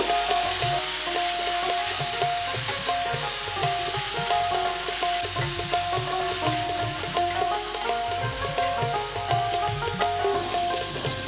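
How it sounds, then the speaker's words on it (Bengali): Cauliflower pieces frying in a pan in a home kitchen. There is a steady, dense sizzle throughout, close and fairly loud, with faint tonal sounds in the background. "ফুলকপি কেটে ধুয়ে তারপরে এখন আমি ফুলকপিটাকে ভেজে নেব"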